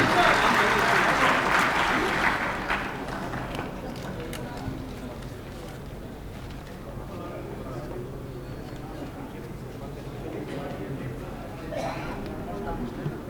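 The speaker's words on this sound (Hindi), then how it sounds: "जोरदार तालियों से" Loud applause breaks out from an audience at a public gathering as a speaker is called to the stage, strong at first and then settling into a steadier wash of clapping that continues under crowd noise.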